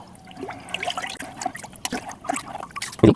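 Jaggery being stirred by hand into liquid, mixed for an aloe vera plant tonic, gives soft wet sloshing and trickling sounds in irregular bursts, fairly close and quiet, with a louder splash at the end.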